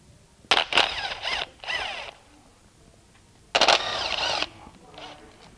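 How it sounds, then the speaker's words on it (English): A ratchet with a deep socket works a single nut on a Mercedes-Benz 722.6 transmission valve body, giving several short bursts of quick clicking up close, with quiet gaps between them. "we'll need a deep socket, and there's a single nut holding the assembly in"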